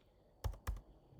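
Two quick keystrokes on a computer keyboard, close and crisp, with a quiet pause after them and no talking.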